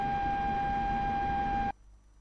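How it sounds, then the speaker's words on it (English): Radar lock warning from the SPO-15 radar warning receiver in a Su-25 flight-simulator game: a steady, solid beep tone holds loud and constant for nearly two seconds, then cuts off abruptly, leaving faint background hum. "suddenly that tone changed to a lock tone, a constant tone with a solid beep."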